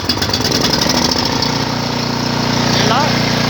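A Husqvarna 14527E snow blower engine catches and settles into a loud, steady, close running rumble with a rapid mechanical chug, throttle at maximum.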